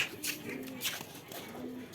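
Soft pigeon coos come in a few low, murmuring bursts, close by, over faint background noise.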